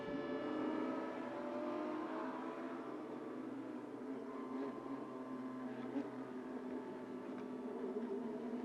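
Porsche Carrera Cup race cars braking down through a hairpin at the Ningbo circuit, their engines heard fairly distant as a sustained rising and falling drone that shifts pitch as they pass.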